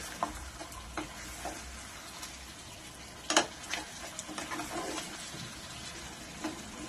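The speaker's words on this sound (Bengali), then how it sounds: "এটাকে এবার ভালো করে মিশিয়ে নিচ্ছি" Chicken rezala sizzles gently in a pan after kewra water and rose water are added, a soft continuous frying hiss punctuated by scattered clicks and scrapes of a spoon stirring it.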